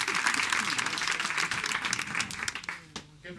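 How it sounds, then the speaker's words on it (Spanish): A live audience breaks into loud, steady applause for a volunteer at a stage magic show, the clapping filling the room and tapering off as it ends. "Le damos un fuerte aplauso a Carolina."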